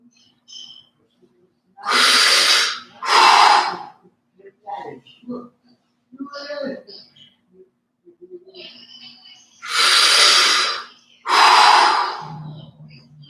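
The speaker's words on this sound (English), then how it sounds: "And we're breathing in" Slow, deep breaths during a vagus nerve exercise in a low, open-kneed stance: two long inhales and exhales, a pause with soft talk, then two more long breaths, close and clear.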